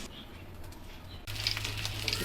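Eggs frying in sesame oil in a pan, a steady hiss that jumps sharply louder partway through as the sizzle intensifies, close and continuous without talk.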